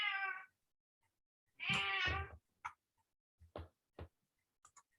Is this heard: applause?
no